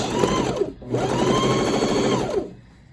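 A sewing machine stitches an eighth-inch pin tuck pleat in two close bursts of rapid, whirring needle chatter separated by a short pause.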